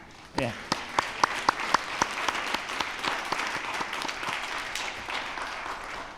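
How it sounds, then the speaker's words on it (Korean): An audience at a Sunday afternoon church service applauds in encouragement for the district leaders, with a few sharp single claps at first before dense, steady applause fills the room and then tapers slightly. "우리 구역 지도자들을 위해서 한번 격려 박수 하겠습니다"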